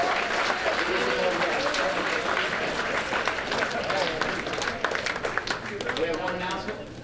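Crowd applause at a high school football awards dinner, sustained clapping from a roomful of guests with scattered cheers and voices mixed in, steady across the whole stretch.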